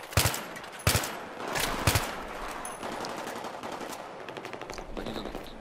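Machine-gun fire in the video game Battlefield 3 rattles in several loud bursts with single sharp shots, over a busy background of distant battle noise.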